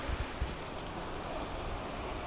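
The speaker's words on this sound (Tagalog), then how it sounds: "Grabing lakas ng hangin." Strong super typhoon wind roars continuously in a dense, rushing wall of noise, buffeting the microphone without letup, after a signal no. 4 typhoon in the Philippines.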